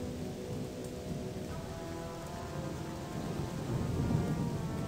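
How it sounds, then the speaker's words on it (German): Dense, heavy rain hisses steadily in the video game ODYSSEE - Im Auftrag des Königs, with a low rolling thunder rumble swelling toward the end, no voices. "Oh, dieser dichte Regen. Der nervt."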